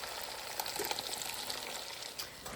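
Sausage meat browning in a pan sizzles steadily with a soft crackle and occasional spoon scrapes and stirring, moderately quiet and without voices.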